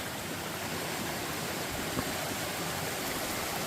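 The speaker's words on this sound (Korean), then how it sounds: "아름다운 폭포 아주 좋죠" Steady broadband rush of a mountain waterfall in autumn, heard on a pine-mushroom foraging hike in Korea's Jeolla region; the water roars evenly and fairly close throughout, with no voices over it.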